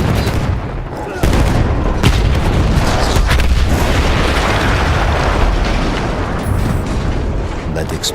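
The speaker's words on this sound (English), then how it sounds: "That explosion was one of the sweetest sights of the war for me." An artillery gun is blown up on a Battlefield 1 battlefield: a sharp blast erupts after a brief lull, followed by a long, loud roaring rumble of debris and fire that slowly fades.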